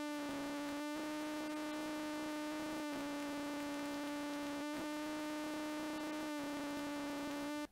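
A wet pitch-shifted drone with its LFO rate moved by hand holds a steady buzzy tone, broken by short abrupt dropouts at uneven intervals that give a choppy, square-wave-like pulse.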